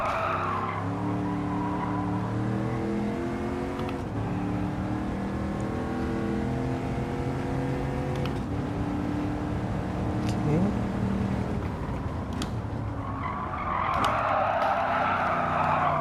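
Tires skid and squeal steadily as a car brakes and slides through a turn in a racing video game, layered over a loud, continuous engine drone with shifting pitch, near and unbroken throughout.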